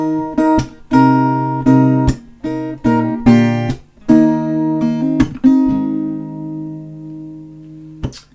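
Acoustic guitar plays the last bar of the chorus of a song, with a steady fingerpicked pattern of ringing chords and a final chord left to fade out. Close and clear, with no voices.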